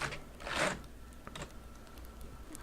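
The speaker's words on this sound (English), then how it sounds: "basically a mechanical keyboard that's why you can hear it from a mile away. That's why my keyboard's so loud." Loud mechanical computer keyboard typed on during a Factorio gaming session, with bursts of clacking keystrokes, scattered taps and a louder final click, close up and with no voice.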